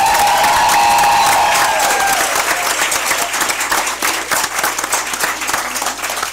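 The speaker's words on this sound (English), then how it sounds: "let's give all of our staff from Jefferson Elementary School another big round of applause" Audience applause at a school district meeting, loud sustained clapping from a large room with some cheering, continuous throughout and slightly easing later.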